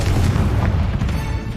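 A Confringo blast curse explodes in a Hogwarts video game, a loud, close, booming burst that fills the short moment with dense rumbling noise.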